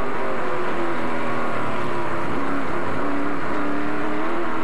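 NASCAR Canada race car at St Eustache heard from onboard, a loud, steady engine roar with continuous broadband drone and no talk.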